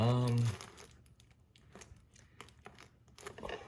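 Thick flexible ventilation ducting being handled and fitted for a grow tent, with crinkly crumpling and rustling at close range after a brief bit of talk at the start.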